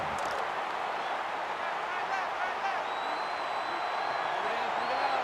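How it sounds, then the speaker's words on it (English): Loud stadium crowd roar from an NCAA 14 college football game, Tennessee at Alabama, a steady dense wash of cheering throughout with faint whistling tones above it. "It's arguably the loudest crowd in the nation, and they are turning it up a notch"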